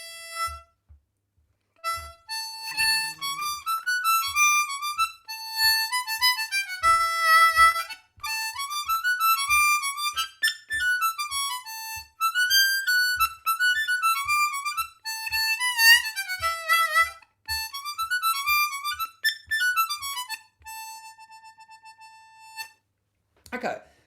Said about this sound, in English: so you use a D harmonica in second position.